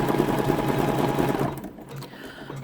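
An embroidery machine stitches an in-the-hoop scallop pouch with a steady, loud, rapid mechanical whir for about a second and a half, then stops, leaving a quieter hum behind.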